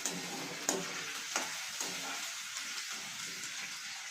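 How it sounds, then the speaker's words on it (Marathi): Potato pieces drop into hot oil and sizzle in a pan. Soft, sharp pops and clicks come near the start as the pieces land, then a steady, fairly faint crackling hiss continues alone. "तेल गरम झालेलं आहे आता तर चला बटाटा टाकू त्याच्यामध्ये"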